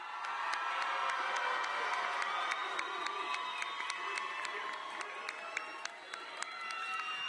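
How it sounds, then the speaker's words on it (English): Graduation audience at a Cleveland Metropolitan School District ceremony for the Garrett Morgan School of Engineering and Innovation class of 2023 cheers and applauds loudly and continuously, with shouts and whistles rising above a dense crowd roar. "Let's give our graduates a round of applause."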